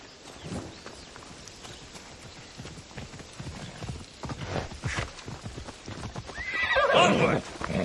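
A horse whinnies loudly near the end, after a stretch of steady clip-clopping hooves, with some voices in the background, in the video game Assassin's Creed: Odyssey.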